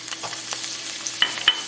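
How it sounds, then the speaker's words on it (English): Garlic and chili fry in about three tablespoons of hot oil in a non-stick pan, a close, crackling sizzle broken by a few sharp scrapes of stirring. "I'm gonna add this garlic and chili."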